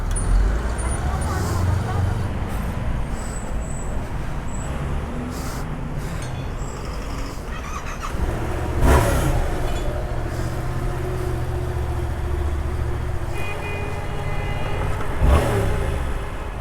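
A 2025 Honda CBR 500R motorcycle rides off along a road, its engine revving and drifting away amid traffic noise, with a couple of louder bursts and voices talking nearby.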